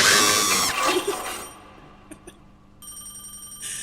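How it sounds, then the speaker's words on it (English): Telephone ringing in a late-night morgue horror video game, a bright ringing burst up front that cuts off, followed by a quieter tonal ring and faint clicks in the background. "now I have to listen to the phone ring for the rest of time"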